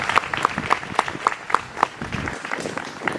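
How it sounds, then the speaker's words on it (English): Clapping at a 2022 upper school commencement ceremony, a moderate round of applause with distinct individual claps in a quick uneven rhythm that thins out toward the end. "Please celebrate yourselves as well with a round of applause"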